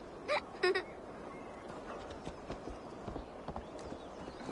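Horse hooves clip-clop in Assassin's Creed Valhalla on PS5, faint scattered trotting beats under a low ambient bed, preceded by two brief sharp vocal-like bursts.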